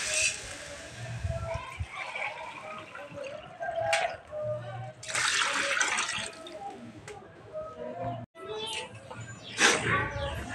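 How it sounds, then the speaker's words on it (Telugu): Rice being washed in water for egg biryani: close splashing, swishing and dripping in a pot comes in uneven bursts while someone talks over it. "రైస్ అయితే కడిగి ఇలా అయితే"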